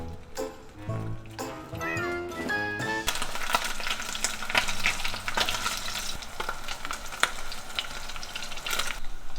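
An egg and Spam fry in a pan with a loud, continuous crackling sizzle. A few clinks and stirring knocks come first.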